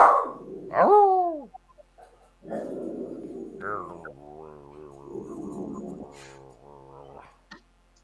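A dog gives a high yelp followed by a string of moaning, whining vocal sounds, close and fairly loud, with pauses between bursts.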